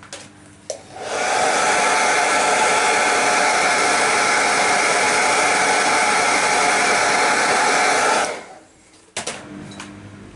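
A hair dryer dries Oilbrushers oil paint; it switches on after a faint click and blows loud and steady for about seven seconds, then winds down and stops, leaving a few quiet handling knocks.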